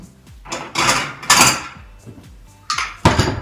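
Green salad tossed with dressing in a bowl, giving a handful of loud clattering knocks and scrapes of utensils against the bowl in irregular bursts, close up with no talking.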